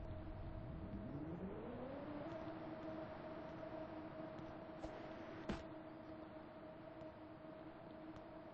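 A train in a Roblox game starts up with a rising whine that climbs over about two seconds and then holds a steady hum, with a couple of sharp clicks later on and no talking.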